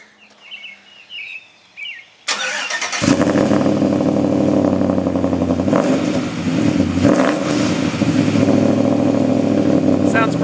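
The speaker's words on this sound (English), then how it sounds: "Alright, I got my dad in there and he's going to go ahead and fire it up." A truck with a newly fabricated 3 inch exhaust cranks and fires up after quiet birdsong, settling into a loud, steady engine rumble close by.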